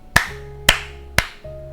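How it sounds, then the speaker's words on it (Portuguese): Three sharp hand claps in an evenly spaced sequence, close and crisp, followed by a softer fourth knock-like thump, over a faint steady hum. "eu vou bater 3 palmas"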